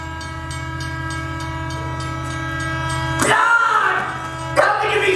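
A train sound effect plays during a live stage performance of the Footloose musical: a sustained horn-like drone gives way to loud bursts of rumbling rail noise, with no dialogue over it.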